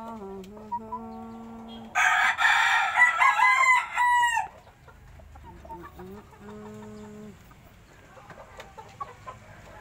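In a small rooftop chicken coop on a third floor, a rooster crows loudly once, nearby hens cluck and squawk around it, and quieter clucking continues afterward.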